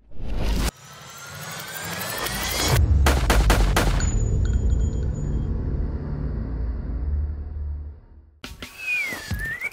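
A gun fires a full magazine into a target, a loud close burst followed by a quick cluster of sharp shots, leaving a low rumbling tail and scattered noise afterward.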